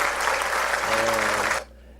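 A stock applause sound effect from video editing software: a thick wash of crowd applause with some cheering tones, steady and loud, then cutting off abruptly into near silence.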